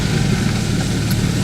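A Nissan GT-R Spec V engine runs close by with a steady, loud mid-range rumble, idling and rolling in as it arrives, with no voices over it.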